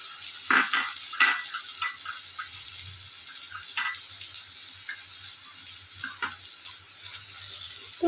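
Carrots and other vegetables frying lightly in a pan for a pita-chira vegetable dish, with a soft steady sizzle under a few sharp utensil scrapes early on and occasional stirring clicks throughout.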